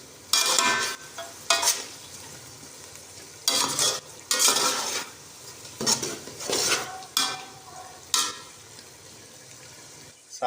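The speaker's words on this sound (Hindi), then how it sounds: "हरी मिर्च शामिल कर दी हमने। अच्छे तरीके से मिक्स करेंगे।" Green chillies are stirred into a pot of potato and pea pulao, with repeated bursts of spoon scraping and clattering against the pot over a soft, steady cooking sizzle.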